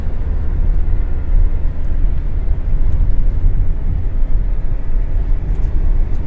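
Steady low rumble of a car on the move with its heater running, a continuous engine and road drone that stays constant and fairly loud throughout with no talk.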